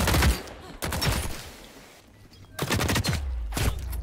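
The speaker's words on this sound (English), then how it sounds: "It's the trench gun." Loud shotgun blasts from a trench gun in The Cycle: Frontier, four heavy reports spaced roughly a second apart, each with a sharp crack and a rumbling tail, close to the player.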